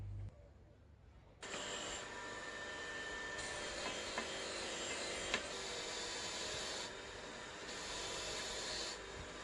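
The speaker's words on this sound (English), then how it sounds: "we'll have to hit it onto the wire wheel on the bench grinder to get rid of this sort of oxidation layer on it" A wire wheel on a bench grinder scrubs an oxidation layer off a metal part, a close, steady high whirring hiss whose pitch and loudness shift as the metal is pressed on and eased off, after a brief quiet start as the grinder spins up.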